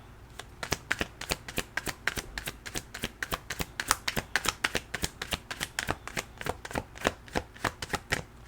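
Oracle cards are shuffled close up in a fast, even run of crisp taps and riffles that lasts the whole stretch, with no voice.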